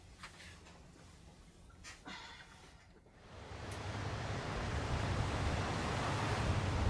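Steady broadband wash of ocean waves heard from aboard a cruise ship on the way to Hokkaido at night, quieter at first with faint rustling, then swelling after a few seconds into a constant louder roar of rough sea and wind.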